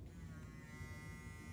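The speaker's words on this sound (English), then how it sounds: "And there you can see the vibration of the bristles." A NELL&WELL kids' sonic electric toothbrush vibrates with a faint, steady, even buzz close by, holding constant for over a second with no speech.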